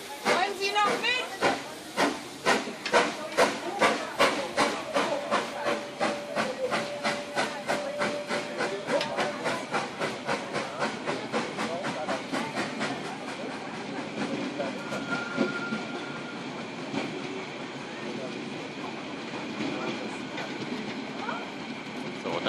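Molli narrow-gauge railway train, with a diesel locomotive, pulling away in the opposite direction: rhythmic chuffing and clacking beats speed up, then settle into a steady rolling rumble with hiss. Faint voices are audible.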